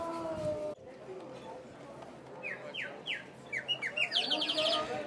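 Ceramic water whistle filled with water and blown to imitate warbling bird song, heard at a Tuscan ceramics festival; after a voice at the start, a run of short rising trills grows louder and busier near the end.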